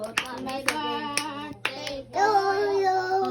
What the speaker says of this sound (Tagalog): Palakpak, baby, palakpak.